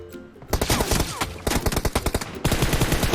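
Rapid bursts of automatic gunfire in PUBG Mobile, loud and close, coming in three dense volleys separated by short gaps.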